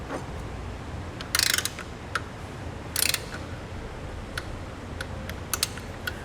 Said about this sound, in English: we're going to get all 5 of our bolts snugged up. And we're going to torque those down